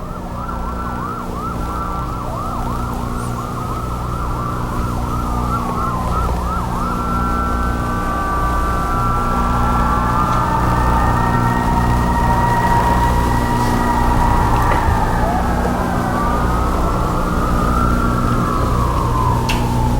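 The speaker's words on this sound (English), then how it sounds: "There's the siren, so it should be happening any second now. You can hear the siren." A wailing emergency siren rises and falls continuously before the Schuylkill Towers demolition, loud and steady throughout, with a low rumbling hum underneath and no talking.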